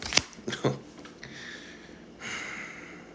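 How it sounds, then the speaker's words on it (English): A deck of playing cards is shuffled by hand: a couple of quick riffling bursts, then a soft sliding rustle, close and fairly quiet. "Y'all saw me shuffle this deck."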